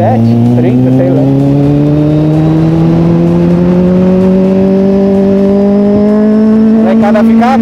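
A 2014 Kawasaki Z800 motorcycle revving hard nearby, its engine note climbing steadily in one long loud pull, with voices briefly audible near the end.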